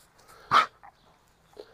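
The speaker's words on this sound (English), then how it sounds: "So getting a dog like this that was really out of control into a state where we can have some control" A German Shepherd barks once sharply during an obedience training session, followed by a short softer yelp and a faint later whimper, in an otherwise quiet setting.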